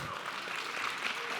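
A brief patter of applause from a conference audience at a React developer talk, short and moderately loud with some voices mixed in.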